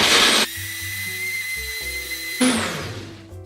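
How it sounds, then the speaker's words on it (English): A kitchen blender whirs loudly as it blends a cashew cheese mixture, a steady high-pitched motor drone that starts abruptly, holds with shifting pitch as the paste thickens, then cuts back to a rougher churning. "Shove it in our blender and we're gonna blend."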